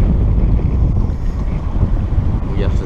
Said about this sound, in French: il y a 16, 18 nœuds de vent maintenant